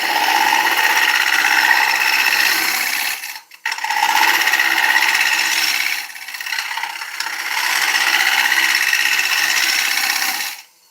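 Ash wood spins on a lathe as a turning tool cuts it, producing a loud, continuous rasping hiss broken by two brief pauses as the cut is lifted and resumed.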